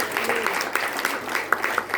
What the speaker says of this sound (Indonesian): Mari tepuk tangan buat Tuhan Yesus.